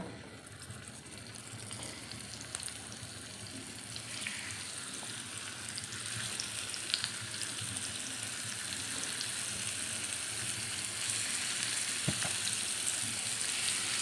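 Pieces of dried fish fry steadily in hot oil in a pan, a continuous close hiss and sizzle with no talking.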